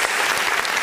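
A burst of loud, dense clapping from a church congregation during a service fills the whole moment, steady and close.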